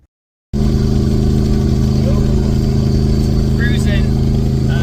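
An LS-swapped Nissan rock crawler cruising on a highway, its engine droning steadily and loudly with heavy road and wind noise throughout after a brief silent start.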